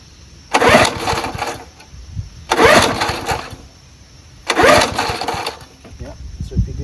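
A vintage 1974 Ransomes Sensation Bob-Cat M21 push lawnmower with a Wisconsin Marine 4HP engine bursts into loud, roughly one-second runs three times, dropping back between each, with people talking nearby.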